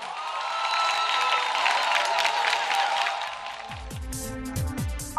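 A karaoke competition audience cheers and claps, a busy crowd noise with shouts that fades after about three seconds into other sounds.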